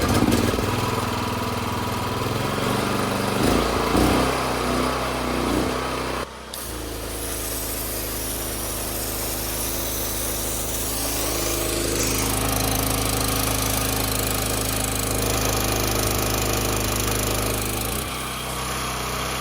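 A Honda GX390 engine runs a Canpump 3600 psi pressure washer pump, giving a steady, loud mechanical drone with a brief dip partway through, then a higher whine joining toward the end, with no talk over it.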